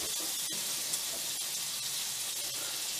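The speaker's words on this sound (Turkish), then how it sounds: "Tost ekmeklerini yağda kızartacağız." Two slices of toast bread fry in hot oil in a pan, giving a steady, close, dense sizzle with a few faint crackles and no talk.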